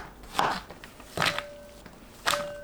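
Knife slicing a zucchini into 0.5 cm pieces on a board, three distinct crisp chops spaced about a second apart, close and clear.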